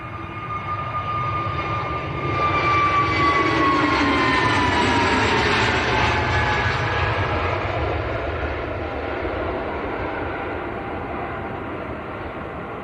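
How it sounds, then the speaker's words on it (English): Airbus A320neo airliner passing near Manchester Airport, a loud jet roar swelling after the first couple of seconds with a descending whine, then slowly fading while staying prominent to the end. "A320 Neo."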